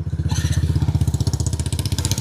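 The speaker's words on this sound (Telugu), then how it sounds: "సో ఫస్ట్ అయితే మనం బైక్ని స్టార్ట్ చేద్దాం" A Hero Xtreme 125R motorcycle engine fires up and settles into a loud, rhythmic thumping idle close by.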